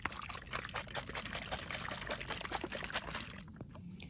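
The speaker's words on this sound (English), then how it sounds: "And then just cover it with my hand and shake it up." Water mixed with vitamins and electrolytes being shaken in a poultry waterer covered by hand, a continuous close sloshing and pouring of liquid, fairly quiet with no voice.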